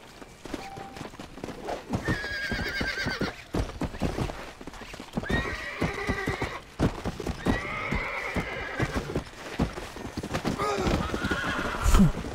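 A horse in Red Dead Redemption: Undead Nightmare whinnies several times over rapid, continuous galloping hoofbeats, with someone talking over the game sounds.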